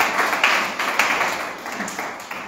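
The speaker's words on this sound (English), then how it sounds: "Clap your hands for Jesus." Church congregation clapping hands together, a lively uneven patter of claps with repeated accented beats, fairly close and without talk.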